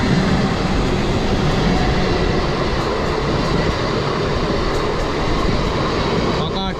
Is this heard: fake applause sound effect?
no